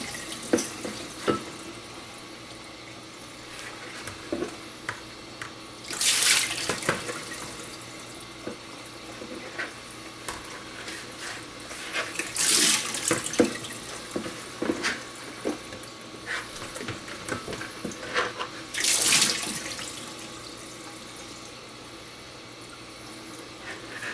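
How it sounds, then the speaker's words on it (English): Hot water runs from a kitchen sink tap while a bowl used for pizza dough is rinsed, a steady stream with three louder gushing bursts spaced several seconds apart, plus clinks and handling noises. "rinse the bowl with hot water from the sink"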